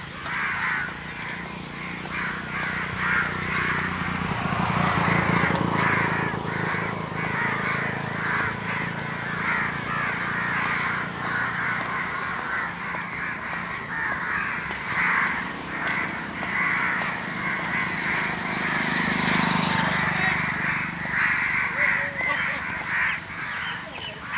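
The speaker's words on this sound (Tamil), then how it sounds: "இந்த பறவைகள் சத்தம் கேட்கும்போது மனசு எவ்வளோ லேசாக இருக்குது தெரியுமா" A dense chorus of crows cawing continuously, many birds overlapping near and far, with a steady busy din throughout and no clear talk.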